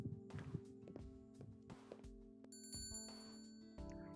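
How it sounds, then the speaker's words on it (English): A shop door bell rings once at a store entrance in the game Angels with Scaly Wings, a bright tinkling chime that rises after a few soft footstep-like thumps and game music. "I entered the store, the sound of a bell alerting the staff to my arrival"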